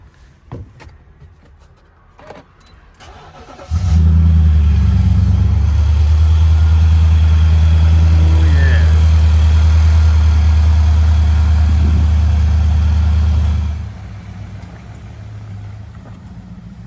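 The engine of a blown Tuff 62, a vehicle of over four tons, cranks and catches after a few seconds of quiet, then idles loud and steady with a deep, even throb for about ten seconds before cutting off.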